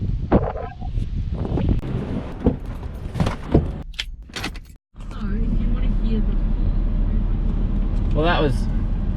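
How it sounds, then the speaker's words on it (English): Wind buffets the microphone at a beach, starting behind a person talking and some handling noise, then after a brief dropout turning into a steady, loud, low rumbling roar that continues to the end. "It's a bit windy, but."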